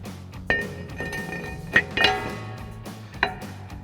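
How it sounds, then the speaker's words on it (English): Brake rotor being fitted back onto the front hub of a RAM 1500 pickup: a few sharp metallic clinks and clanks at irregular moments, close by over a low background hum, no speech. "Now that we have that tight, we'll reinstall our brake rotor."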